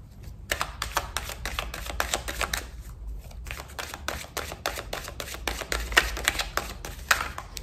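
Oracle cards are shuffled by hand for a cross-spread reading, a quick close run of crisp flutters and soft slaps repeating steadily for several seconds with no voices.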